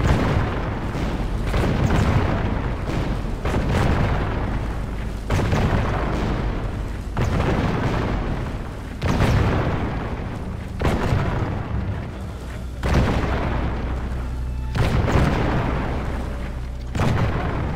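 Repeated cannon fire in Medieval 2: Total War during a battle for a city centre, deep booming shots roughly every two seconds, loud and resonant, with a continuous rumble of combat underneath.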